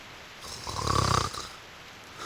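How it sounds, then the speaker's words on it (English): A cartoonish snore from a sleeping apple character in the video game Reverse: 1999, one slow drawn-out rumbling inhale that swells and fades, close and moderately loud over quiet game ambience. "What we want to know is how an apple can snore."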